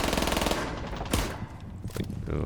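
A video game weapon fires in a rapid automatic burst, loud close-range shots in quick succession with a sharp crack near the middle and continued firing toward the end.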